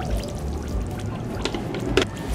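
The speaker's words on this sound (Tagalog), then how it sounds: "Lalagyan ko siya ng 2 cups ng tubig." Water is poured from a cup into a cornstarch mixture for maja blanca, making a short, close, splashing pour that swells near the end.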